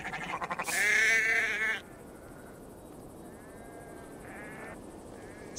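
A sheep in the video game Assassin's Creed Valhalla lets out one loud, drawn-out bleat up close, followed by a few fainter, shorter bleats in the background.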